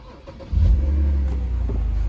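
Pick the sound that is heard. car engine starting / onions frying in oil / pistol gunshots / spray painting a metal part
car engine starting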